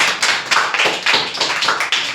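Children in a classroom clap for a fellow student, giving a close, loud burst of claps in an uneven rhythm that lasts about two seconds with no talking.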